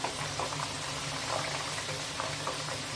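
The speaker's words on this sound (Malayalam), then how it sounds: "ഇതിങ്ങനെ കിടന്ന് തിളയ്ക്കും." Homemade hair-growth oil boiling in a pan gives a dense, continuous bubbling and crackling, steady and close throughout with no voices.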